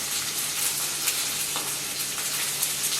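Duck confit fries in a pan until crispy, giving a steady, close, continuous sizzle and crackle with faint spits, no voices.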